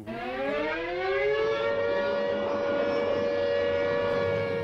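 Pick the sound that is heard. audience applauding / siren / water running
siren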